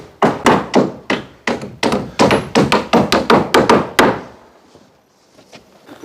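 Hammer blows nailing boards onto wooden battens on the roof of a 6 by 6 m timber house, ready for metal tile roofing; about a dozen sharp, loud, evenly spaced strikes in quick succession, then a fading pause with faint knocks.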